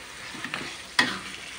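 Sambal being stirred into tilapia fish in a frying pan: a couple of soft scraping strokes, then one sharper spatula scrape against the pan, with a faint sizzle underneath, close and brief.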